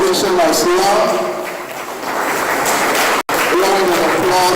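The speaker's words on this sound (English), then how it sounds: "And I also appreciate a standing ovation as well." Audience applause at an induction ceremony at the Ajimobi Resource Centre, a steady broadband wash of clapping that swells and briefly dips, with voices and cheering mixed underneath and a sudden short dropout near the end.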